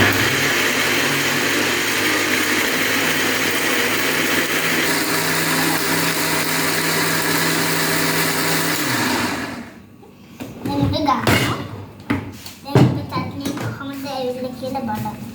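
Electric blender grinding coconut chutney, a steady loud whirring motor running for about nine seconds then cutting off, followed by clattering and handling sounds with brief talk.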